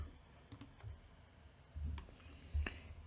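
Trading-bot code being typed on a computer keyboard makes a few quiet, scattered key clicks and taps, close by, in a short burst with pauses between strokes and no talking.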